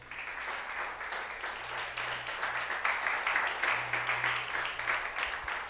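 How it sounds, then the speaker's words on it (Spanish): Moderate applause from a church congregation during a sermon, a steady wash of many hands clapping that swells slightly midway and continues without talk. "Dale un aplauso a Cristo"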